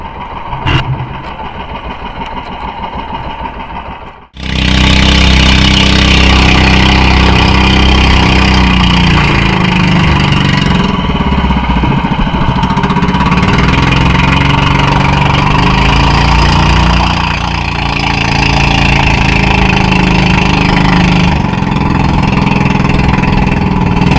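A boat motor runs at sea after a storm during a chase. A quieter engine idles first, then a loud, steady roar surges in and holds, droning continuously with slight swells in intensity.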